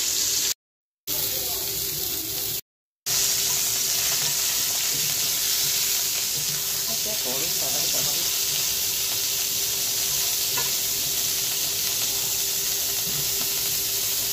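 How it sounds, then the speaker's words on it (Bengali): Steamed cauliflower fries lightly in a hot pan with oil, giving a steady, close sizzling hiss that runs continuously with a few brief breaks. "ফুলকপিটা একটু ভাপ দিয়ে নিয়েছি জলে দিয়ে, এবার হালকা করে একটু ভেজে নেব"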